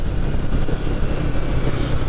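Royal Enfield Himalayan 450 engine running steadily while riding, a continuous low rumble with wind and road noise, loud and unbroken throughout with no talk.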